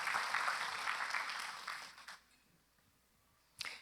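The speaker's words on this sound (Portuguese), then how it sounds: "Dá uma salva de palmas para Jesus." A church congregation applauds during a worship gathering, a soft, fairly distant wash of clapping that fades out after about two seconds, followed by a brief quiet pause and a single sharp knock.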